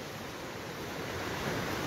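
A river flowing beneath a bridge near a hidden waterfall in Cochamó, giving a steady, full rushing wash of water that stays close and constant, with no voices.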